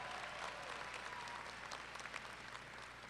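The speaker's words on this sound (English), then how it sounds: "Let's give them a round of applause." A university commencement audience applauds a band in a large hall, a dense and steady wash of clapping that sounds distant and faint.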